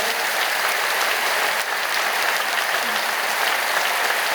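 A church congregation claps loudly at the close of a 40-day Horeb Mountain prayer meeting, a dense, continuous roar of many hands that stays level and full from start to finish.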